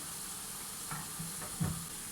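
Steady sizzling of içli köfte frying in a pan, a continuous soft hiss with a few brief stirring clinks near the end.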